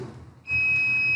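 Electrical tester beeping at a live wire while checking phase and neutral conductors, a steady high-pitched continuous tone that starts partway through and holds loud to the end.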